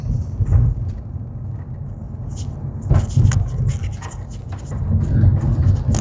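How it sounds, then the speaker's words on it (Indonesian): A truck on the road rumbles past with a steady, low engine drone and a few sharp clicks and scrapes nearby. "Iya, ada truk."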